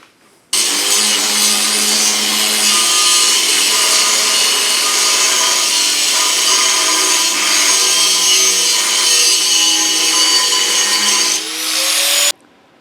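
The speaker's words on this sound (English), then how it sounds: "since this is hardened steel, this takes quite a while to sand" A power tool sands hardened steel for a full-size Dragonslayer sword build, a loud, steady abrasive grinding that runs unbroken for about twelve seconds before cutting off.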